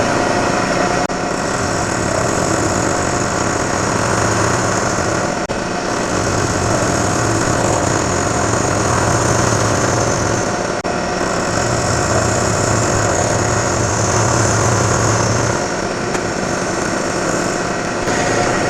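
A metal-cutting machine takes a light pass across steel bolt heads being shaped into tap wrench jaws, a steady mechanical whine and hum with brief pauses between passes, close and continuous, with no talking.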